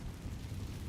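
A Confringo fire spell blasts off in a wizard video game, a brief, dense, low rumbling boom filling the whole second, fairly quiet and without any voice over it.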